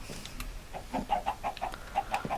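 Chickens in the Minecraft video game cluck in a series of short, clipped calls, several in quick succession, fairly close and alone without speech.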